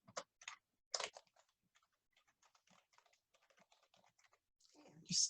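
Keystrokes on a computer keyboard while entering data into a word-processing table, a steady run of light, close, irregular clicks with brief pauses, plus a few louder taps at the start and a short rustle at the end.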